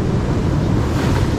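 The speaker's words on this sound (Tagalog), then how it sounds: "Kasi nga grabe yung alon yun." Big ocean waves roll and crash at sea during a fishing trip, a dense steady roar with wind buffeting the microphone, no voices.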